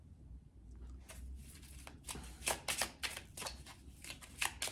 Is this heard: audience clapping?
no